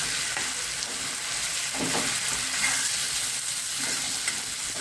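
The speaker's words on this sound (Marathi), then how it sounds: "कांदा आपला छान परतला आहे" Onions for a matar paneer curry sautéing in a pan, a dense steady close sizzle with faint stirring scrapes now and then and no talk throughout.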